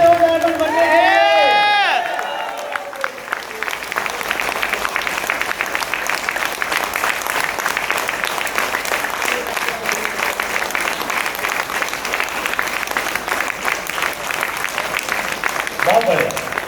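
Loud, sustained applause from a large indoor audience at a business motivational seminar, dense steady clapping that runs for over ten seconds after a speaker's raised voice.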